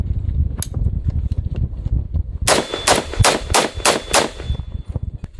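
An M14 EBR (Mark 14) rifle fires a rapid string of about six sharp, loud shots outdoors after a few scattered earlier reports, each crack followed by a lingering metallic ring.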